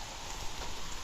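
Heavy rain on a mountain trail on Mt. Makiling falls as a dense, even hiss of drops, steady throughout a short stretch with no voices.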